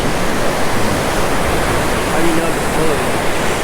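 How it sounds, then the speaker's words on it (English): Ocean surf waves on a fishing beach, a steady broad wash of breaking water filling the whole stretch, loud and close with no pauses. "Yeah, that's just waves. Just the waves."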